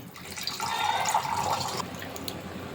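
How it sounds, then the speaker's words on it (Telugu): Water pours from a glass into the broth of a chicken biryani, a close, steady splashing trickle lasting about a second and a half before tapering off into faint drips, with no talking. "ఇంకో ఎక్స్ట్రా గ్లాసు వాటర్ పోసుకుందాం."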